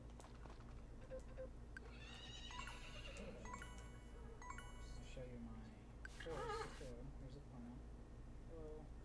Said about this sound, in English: I'll show you my horse, too. Here's Epona.